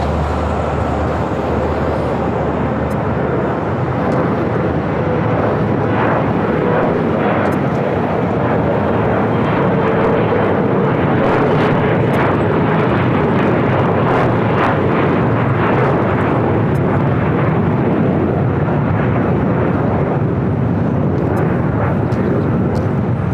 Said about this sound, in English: Was Delta Connection, SkyWest, Flight 4018, flight heading to San Diego